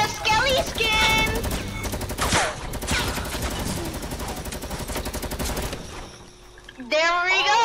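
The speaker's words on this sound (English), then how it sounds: "The LMG. Just follow the barrage of bullets." Sustained light machine gun barrage in a video game, dense rapid-fire bursts with loud clattering shots running for several seconds, briefly easing near the end before another burst.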